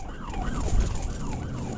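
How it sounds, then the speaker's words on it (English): An Arkansas State Police car's siren wails, rising and falling in repeated sweeps at moderate distance during a pursuit, over a low rumble of traffic. "The trooper activated his sirens"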